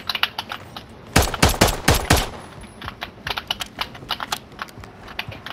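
Gunfire in the video game Call of Duty Warzone: a close burst of rapid automatic shots, then scattered lighter shots and clicks continuing at moderate volume.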